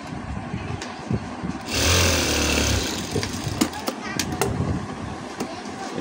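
A sewing machine stitches the left body panel of a blouse while making the button plate, giving a single whirring run of about a second amid quieter handling sounds.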